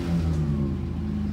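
A car engine revs steadily at a cold-weather drifting session where a Ford Focus is being drifted, a loud, close, mid-pitched drone holding throughout with no talk.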